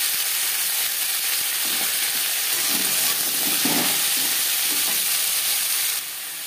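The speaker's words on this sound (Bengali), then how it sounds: "10-15 সেকেন্ড ভেজে নেওয়ার পর দিয়ে দেবো ব্রকলি" Broccoli and carrots frying in a hot pan, a loud steady sizzle and hiss with soft stirring scrapes in the middle, easing slightly at the end; no speech.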